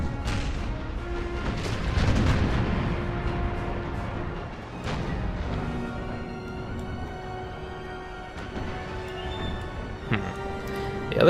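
Ship cannons in the naval battle game Empire: Imperial Splendour boom at a distance, dull thuds rising out of a rumbling battle bed with occasional sharper cracks near the end.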